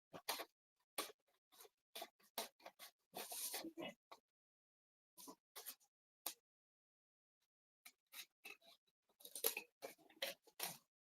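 Scissors snipping through paper card for a handmade staircase card, a series of short crisp cuts in irregular bursts with quiet gaps between, close and alone.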